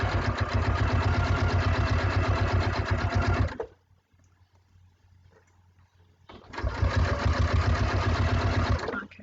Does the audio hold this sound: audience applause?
no